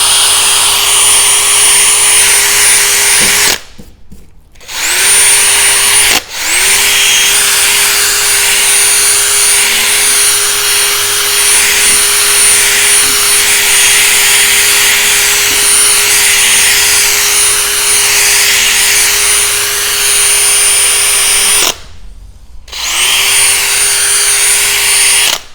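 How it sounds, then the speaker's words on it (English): A drill spins a polishing pad on a faded car headlight with a 3M restoration kit, a loud, steady high whine that cuts out briefly twice before spinning back up. "Keep the drill moving."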